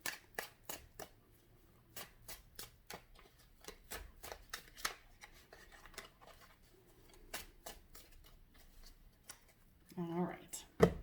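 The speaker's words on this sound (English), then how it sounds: "Let me shuffle this one a little bit." Deck of cards shuffled by hand in a tarot-style card reading, a run of quick crisp riffling snaps and flicks, close and fairly quiet, followed by a brief bit of talking at the end.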